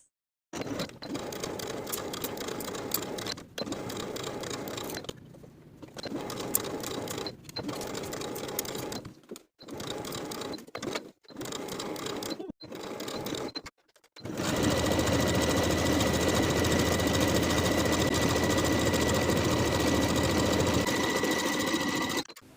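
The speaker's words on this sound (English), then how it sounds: "Sew the top and bottom bodice pieces together straight across with a 1/2 inch seam allowance" A sewing machine stitches the top and bottom bodice pieces of a colorblock garment together straight across with a half-inch seam, running close and loud in several short bursts with brief pauses, then one long continuous run.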